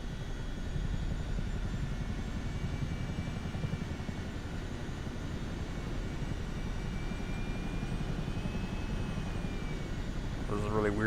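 A Chinook helicopter flying in Microsoft Flight Simulator 2024 on PlayStation 5 Pro, a steady, dense rotor and engine drone holding constant throughout, loud and unbroken, with a brief chirp at the very end.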